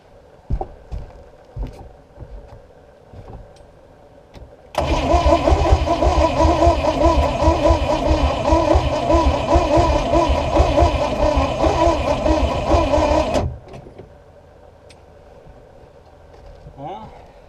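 An antique boat engine, decades neglected, cranks over sluggishly: a loud, even mechanical churning starter run of about nine seconds that does not catch, with quiet talk and clicks before and after.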